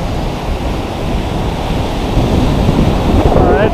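Small rolling waves wash onto a sandy beach where someone is surf fishing, a steady broadband roar of surf mixed with gusty wind buffeting the microphone, swelling slightly louder toward the end, where a brief faint voice surfaces.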